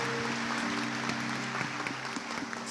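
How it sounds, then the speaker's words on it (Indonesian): Congregation applause at a church service, a steady wash of clapping from many hands, with a sustained musical tone humming beneath it throughout. "tepuk tangan dulu untuk Tuhan Yesus yang luar biasa"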